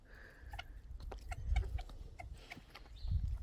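Several egg-laying hens cluck and squawk nearby in a coop in irregular bursts, with scratchy movement and low rustling underneath.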